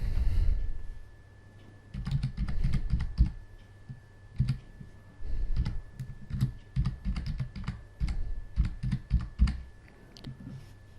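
Fingers type email addresses on a computer keyboard in quick, uneven runs of close, crisp key clicks, broken by short pauses between bursts.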